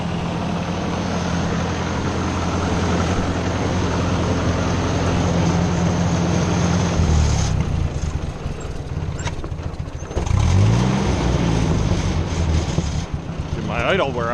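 A tractor engine runs with a loud, steady, close rumble that shifts in pitch partway through as it settles toward idle, with a voice speaking briefly over the engine.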